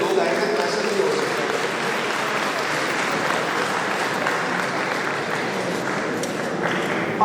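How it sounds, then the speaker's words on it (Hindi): Audience applause in a library hall at an academic event, continuous broad clapping from a seated crowd lasting several seconds, with faint talk underneath. "भाई आपने ताली अच्छी बजानी है"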